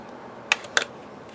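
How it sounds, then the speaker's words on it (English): Scissors trim an extra piece of paper off a handmade winged card box, giving two quick, crisp snips close by in a quiet room. "So now I'm going to take my scissors and just trim this extra piece off."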